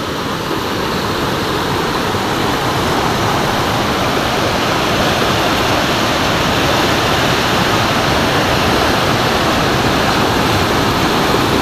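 A muddy river in Lembah Anai, West Sumatra, rushes loudly a week after a devastating flash flood, a constant dense roar of turbulent water with no pauses and no voices.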